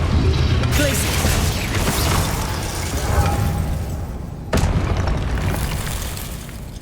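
A Glacius freezing spell cast in Hogwarts Legacy, a loud, dense booming blast with crackling texture that swells, then a sharp second impact about two-thirds through, rumbling on without talking.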